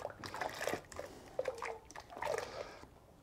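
Soft splashes and plops as pieces of chopped potato drop into a pot of clear golden fish broth, close and fairly quiet.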